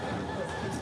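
A horse neighs briefly at a horse dance festival, a short whinny set against a dense crowd din. Voices are heard around it.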